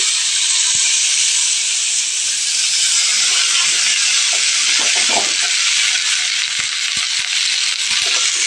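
Chopped Malabar spinach, pumpkin and potato sizzle steadily and loudly in hot oil in a pan, a dense continuous hiss with occasional crackles and faint stirring clatter, no voices.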